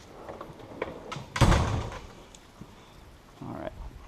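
A hammer strikes a wheel stud once, a sharp heavy metallic knock near the mic, followed by quieter clunks and handling noise in a garage.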